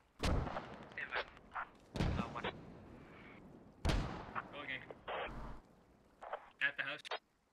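Heavy mortar fire in a military shooter thumps three times at roughly two-second intervals, each blast trailing a rumble, while voices chatter between the impacts.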